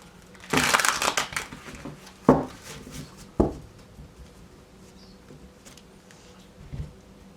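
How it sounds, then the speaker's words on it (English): Tarot cards being shuffled close by, a few sharp riffling bursts and slaps in a quiet room, the longest at the start and shorter snaps after, with soft rustles between. "One more shuffle."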